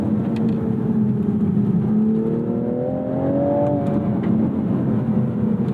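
A 2026 Toyota Supra MK5 base model accelerates hard in sport traction mode. The engine note drones loud and close, and its pitch climbs steadily through the rev range with no talking.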